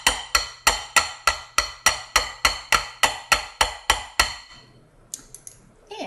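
Hand mixer beaters are tapped against the rim of a bowl of biscotti dough, about fourteen sharp metallic knocks in an even, quick rhythm, loud and close, followed by a few softer clinks.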